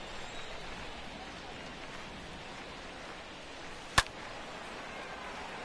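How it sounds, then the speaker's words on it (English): Steady rain hiss falls throughout a Cubs versus Red Sox baseball video game, an even broadband wash with one sharp click near the end. "This rain is not letting up."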